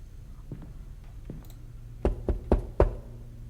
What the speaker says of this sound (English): I hate how I knock because it's very aggressive